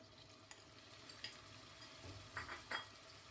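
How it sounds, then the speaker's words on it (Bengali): Marinated chicken breast fries in oil in a wok, a faint, steady sizzle with a few clinks of a utensil and stirring scrapes toward the end. "এই তেলের মাঝে আমি দিয়ে দিব ম্যারিনেট করে রাখা আমার চিকেনটা দিয়ে আমি কিছুক্ষণ ভেজে নেব।"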